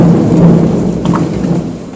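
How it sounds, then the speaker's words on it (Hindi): A deep rolling rumble of thunder from a thunderstorm fills the space, steady and fairly loud with rain-like hiss, no voices over it. "बिजली कड़क रही है, मेरी गलती नहीं है"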